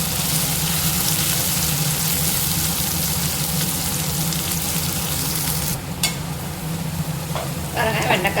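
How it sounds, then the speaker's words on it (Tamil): Okra fries in hot oil, a loud, dense, steady sizzle close up that dips briefly and then returns with some crackling and bubbling. "எண்ணெயில் லைட்டாக பொரிய வச்சு எடுத்துக்கணும் எல்லா வெண்டைக்காயும் ஒன்றா போட்டு வரீங்க"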